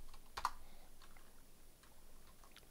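Computer keyboard keys tapped in a quiet room during a Minecraft ComputerCraft session: a sharp cluster of clicks, then a few softer, sparse keystrokes over low steady background hiss.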